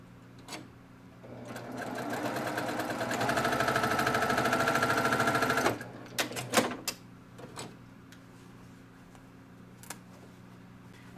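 A sewing machine stitches quilt rows for a table topper, its motor whirring steadily at close range for several seconds, rising slightly mid-run, then stopping, followed by a few handling clicks and bumps.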